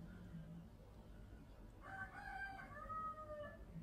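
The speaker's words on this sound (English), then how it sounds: "We've heard the cockerel." A cockerel crows once on a farm, faint and distant, over a low outdoor rumble, with no nearby voices.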